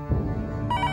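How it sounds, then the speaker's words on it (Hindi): A telephone bell rings in a tense domestic crime-drama scene, a short close burst of bright repeated trilling that starts abruptly partway through. "उठाओ फोन, चलो।"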